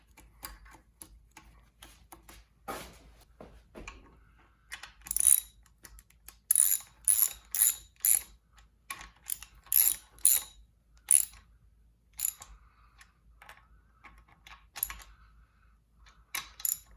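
Torque wrench clicking as it tightens the con-rod bolts of a rebuilt flathead engine to 45 foot-pounds, a run of sharp ratcheting clicks and mechanical ticks in short bursts, close and fairly quiet with no talk.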